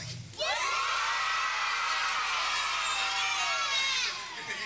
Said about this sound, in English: Can everybody show me what a really good cheer sounds like?